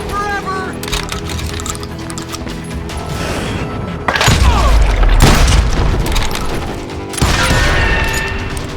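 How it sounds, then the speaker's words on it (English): Loud Western game gunfire from Call of Juarez Gunslinger, booming shotgun and rifle blasts in a street shootout, with heavy reports around the middle and later, mixed with shouting voices and music. "They're shooting in the street!"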